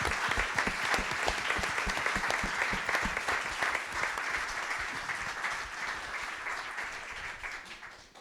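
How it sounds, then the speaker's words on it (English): An audience at a panel on 9/11 documentary films claps for first responders, sustained dense applause that gradually fades toward the end. "can we just take a moment to give a round of applause to our first responders today?"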